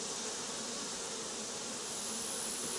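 Honey bees buzz steadily on a hive frame, a dense, close, continuous hum with no pauses.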